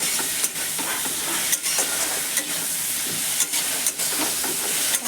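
Spices and meat masala sizzling in a pan while being stirred, a loud continuous fry with periodic scraping strokes of the spoon.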